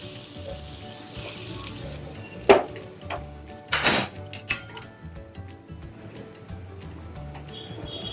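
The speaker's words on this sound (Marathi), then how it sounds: "आपण याच्यात गरम तेल टाकू। हे तेल गरम झालेलं आहे, हे टाकूया।" Hot oil poured into kachori flour gives a sharp burst of sizzling with a few quick splashes and crackles, then fades into quiet clinks and soft kitchen noise.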